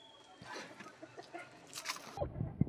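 A hen, one of a group of Tamil Nadu parrot-breed chickens kept for hatching eggs, clucks nearby; the low clucks come in a few short bursts near the end, with rustling and other farmyard sounds before them.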